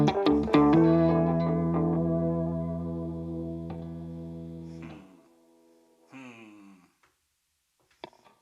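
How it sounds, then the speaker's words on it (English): An electric guitar run through a BOSS GT-1000 with reverb and an octaver strums a chord that rings out and decays slowly in a wash of reverb. A couple of softer plucked notes and a short pick scrape follow it. "Let's just bring back that reverb."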